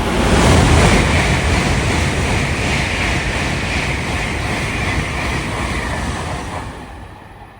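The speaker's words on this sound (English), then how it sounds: "Look at how fast the train is going." A fast train roars past close by with a broad rushing, rattling noise that swells at the start and fades away near the end.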